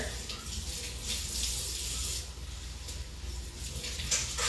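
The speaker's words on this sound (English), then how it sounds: "let me just rinse this off real quick" A kitchen tap runs while something is rinsed under it, giving a steady splashing water rush with slight surges throughout.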